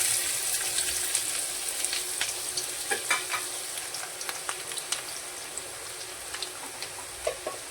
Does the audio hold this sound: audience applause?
no